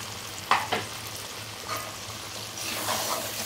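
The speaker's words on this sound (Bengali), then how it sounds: "এখন আমি মশলাটা এর সঙ্গে দইটার মশলাটা ভালো করে কষিয়ে নিচ্ছি" Spice mix and yogurt being stir-fried together in a pan for chicken gravy, a soft steady sizzle with a couple of sharp utensil scrapes early on, and no speech.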